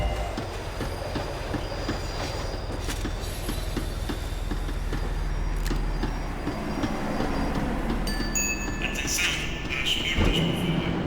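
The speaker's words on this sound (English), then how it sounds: "The tram was slowing down, and I'd only just gotten on board." A tram in the video game Max Payne 3 rumbles steadily as it slows, with a continuous low rolling drone, rail clatter and a few high metallic squeals near the end.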